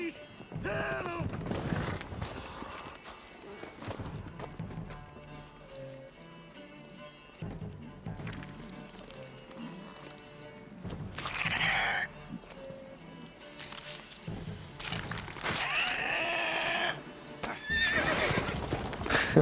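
A horse in The Witcher 3 gallops with rhythmic clip-clop hoofbeats and lets out loud neighs and whinnies, set against a busy game soundscape with music and occasional voices.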